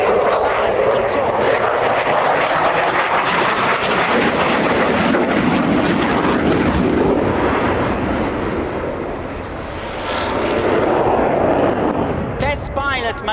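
An Italian Air Force Eurofighter Typhoon jet roars through a flying display at an air show, a loud, continuous, rumbling engine blast that swells and eases slightly, with an announcer's voice talking over it.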